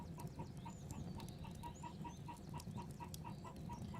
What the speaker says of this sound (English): You guys can probably hear one of my hens out there.